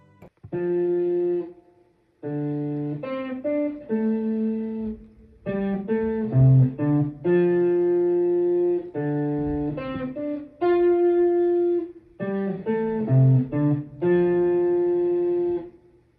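An electronic cover of Casey's theme from the game Night in the Woods, bright synth melody over bass with steady rhythmic phrasing and short pauses between sections.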